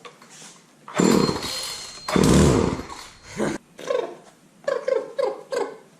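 A walk-behind weed eater trimmer engine coughs to life in short, loud bursts, sputtering briefly at close range before dying, then giving a few weaker uneven pops.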